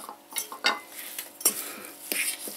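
Cottage cheese being mashed with sugar in a bowl, heard as a series of soft, irregular scraping and tapping strokes of a utensil against the bowl, close and fairly clear, with no voices.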